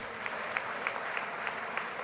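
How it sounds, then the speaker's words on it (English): A crowd at a university awards ceremony applauds steadily as an honoree's daughter accepts an award, a soft, even patter of clapping heard from a distance. "Please applaud the daughter"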